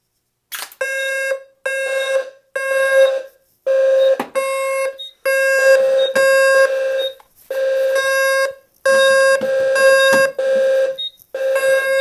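A fire alarm sounds during a duct detector test, giving loud repeated electronic tonal bursts about a second long with short gaps between them, continuing steadily throughout.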